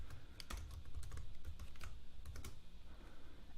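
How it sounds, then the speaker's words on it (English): Keys on a computer keyboard are typed in a quick, uneven burst of close clicks over a low steady hum. "I can type out what I want."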